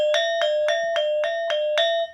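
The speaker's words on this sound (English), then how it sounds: "So when Polos and sangsi both play, it sounds like this" Balinese gamelan metallophones play interlocking polos and sangsi norot parts together, seven bright ringing strokes in an even pulse over a sustained shimmering tone, close and alone.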